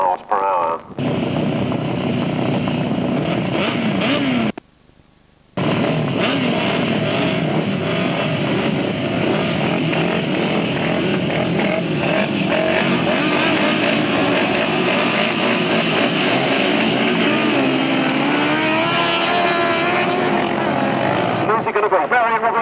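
Grasstrack sidecar motorcycles race down the straight at a 1996 Maidstone meeting, a loud continuous engine roar with brief gaps and rising revs, under a commentator's talk.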